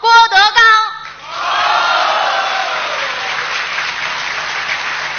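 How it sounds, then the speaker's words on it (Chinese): A large audience at a Deyunshe crosstalk show applauds steadily and warmly after a brief spoken announcement, and the clapping holds for several seconds. "谢谢您的掌声鼓励"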